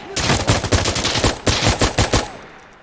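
Rapid bursts of automatic gunfire in Insurgency Sandstorm during a Marine fireteam raid on an insurgent stronghold, loud and close, about ten sharp shots in quick rhythm before fading into a short tail.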